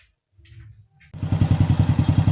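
Motorcycle engine revved up in a repair workshop, a few quiet clicks and small noises before the engine roars in loud and close with a steady, pulsing throb.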